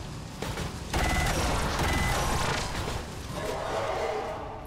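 A sustained, dense burst of gunfire from XCOM 2 Long War 2 roars loud and close for several seconds, then tapers toward the end.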